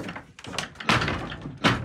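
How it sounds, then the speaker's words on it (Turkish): A door being pushed from the other side and banging, with scuffing and a few heavy thuds and knocks, the loudest near the middle and end, close and fairly loud over faint background noise. "bir şey kapıyı itiyor lan"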